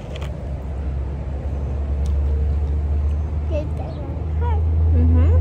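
Steady low rumble of a family car driving on the road to a beach vacation, a constant engine and road drone that swells near the end, with faint voices and small sounds over it.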